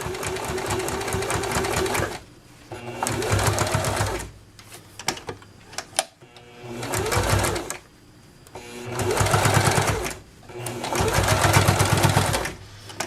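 A sewing machine stitches a small fabric wallet in several loud, close bursts of rapid mechanical whirring, separated by short pauses with handling noises and brief sounds of the fabric being adjusted.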